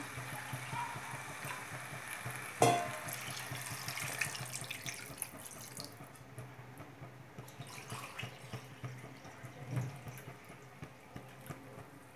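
Water poured from glasses into a pot of Hyderabadi-style mutton curry, a steady running splash with a brief sharper clatter near the start, then quieter bubbling and trickling toward the end, no voices.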